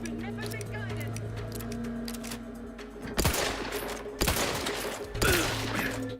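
Gunfire in The Outer Worlds 2: three loud close shots spaced about a second apart near the end, following a stretch of humming game ambience with a voice talking.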